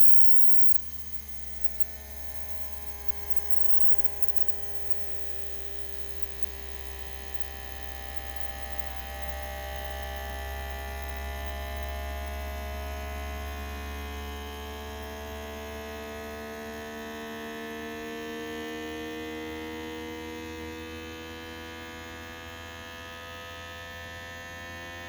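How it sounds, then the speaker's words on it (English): A FoodSaver vacuum sealer runs continuously with a steady motor hum whose pitch slowly shifts as it works, moderately loud and close with no voices. "you turn on your machine. And when you hear the sound adjust and then stop adjusting,"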